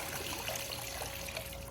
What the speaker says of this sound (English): I recommend just letting a little water drip out.